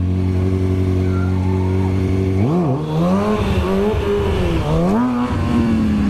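A motorcycle engine drones at a steady high idle, then revs up and down in rising and falling swells as the rider pulls a wheelie on the road, loud and close throughout.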